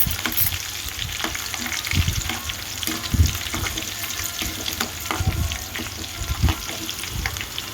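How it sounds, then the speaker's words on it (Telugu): Tempering spices, sliced green chillies and curry leaves sputter in hot oil, a steady close sizzle with bursts of crackle and scraping stirs, and no voices over it. "వేడెక్కిన తర్వాత తాలింపులు వేసి పచ్చిమిరపకాయలు కోసి వేయాలండి. కరివేపాకు కూడా వేయాలి."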